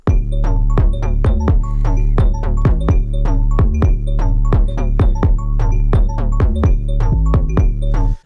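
A bright synth melody plays in quick, chopped arpeggiated notes, steady and loud over a sustained low bass, with no voices.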